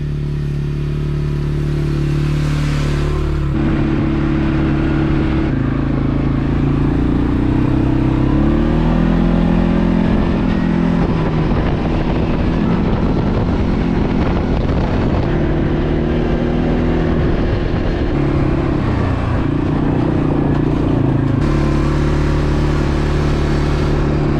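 A farm motorbike rides across a grazing lease block, its engine loud and close throughout with steady droning harmonics that rise and shift as the throttle and gears change, and rattly clatter over rough ground.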